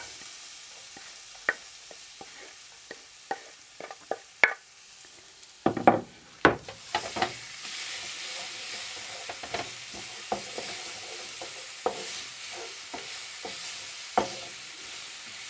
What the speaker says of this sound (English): heat up a good glug of oil in the pan, approximately 2 tablespoons. And then we're going to add our garlic.